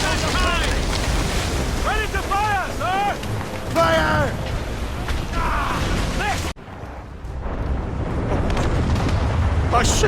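Ship cannons fire in a naval battle in Assassin's Creed Rogue, heavy booms rolling under wind and sea noise while shouting voices carry over the first half, before a sudden cut to a quieter rumble.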